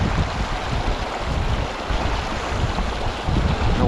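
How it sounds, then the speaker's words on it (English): Strong, steady wind roars and buffets the microphone outdoors beside a river in the Eastern Sierra during fly fishing, a continuous broadband rush with no talking. "for the wind to die down."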